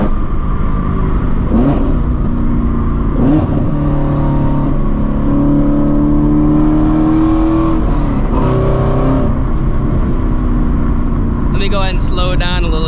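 Ford Shelby GT350 with a full-bolt-on E85 build, its engine droning steadily while cruising in sixth gear, a loud continuous cabin hum with a driver talking over it.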